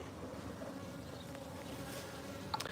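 Honey bees humming around an opened hive during a honey harvest, a faint, even drone with a few brief louder buzzes near the end, no voices.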